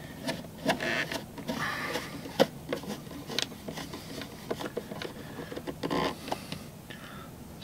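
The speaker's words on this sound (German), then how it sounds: "Irgendwann habe ich mal gelernt, man soll auch immer diagonal die Schrauben anziehen." Screws being tightened one after another in diagonal order while fitting a cabin announcement panel into a home-built flight simulator cockpit, heard as steady close mechanical whirring and scraping with small clicks and knocks.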